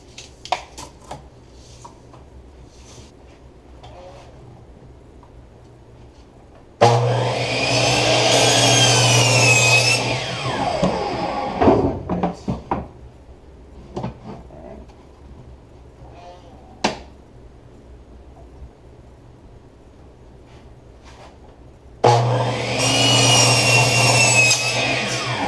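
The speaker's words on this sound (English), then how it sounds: "I'm going to go ahead and cut me up 2 pieces of this to use for the back." A power saw cuts plywood in two loud, close bursts of whining, rasping blade noise, with quieter handling clatter and knocks between the cuts.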